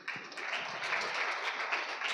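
A congregation at a church service applauds together, a dense, steady wash of many hands clapping close by for the whole stretch with no talking over it.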